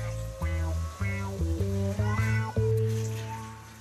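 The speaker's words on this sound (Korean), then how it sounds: "야옹 소리도 거슬리는 모양." A cat meows repeatedly in a string of close, clear, drawn-out cries, several in quick succession, alone without talk.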